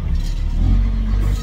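A truck creeps forward at a construction site, making a brief, low, rumbling engine note close by with a slight rise in effort.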